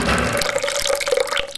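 Water is poured into a bowl for homemade wholemeal crackers dough, a short, close, trickling and splashing stream with light drips.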